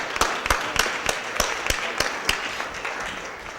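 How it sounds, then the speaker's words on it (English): A round of applause at a Board of Aldermen meeting, about a dozen sharp, fairly evenly spaced claps over a soft wash of scattered clapping that thins out toward the end. "Let's give them one more big round of applause"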